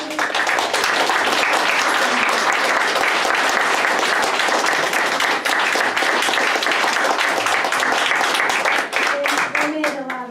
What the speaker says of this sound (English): let's give them a really big hand because